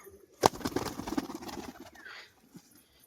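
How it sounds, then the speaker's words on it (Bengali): A large female pigeon gives a brief coo and rustle close by, with a sharp flutter or tap near the start and softer murmuring after, fairly quiet overall. "দেখুন কত বড় সাইজ একটা মাদি পায়রা"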